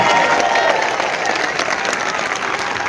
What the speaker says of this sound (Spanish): Aplauso para la Iglesia de nuestro Señor Jesucristo.